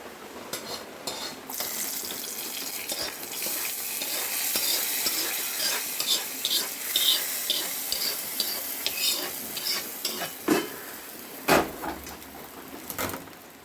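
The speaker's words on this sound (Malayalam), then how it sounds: "ഇതിൽ രണ്ട് ഉണക്കമുളകും കൂടി ഇട്ടിട്ട് നമുക്ക് ഇത് ഫ്രൈ ആയിട്ടുണ്ട് കേട്ടോ നമുക്കിത് നേരെ നമ്മളെ കറിയിലേക്ക് തട്ടാം" Dried red chillies fried in a hot oil tempering and poured into a taro-leaf curry: a steady loud sizzle with stirring scrapes and clinks of a pan, and a sharp burst of spatter near the end.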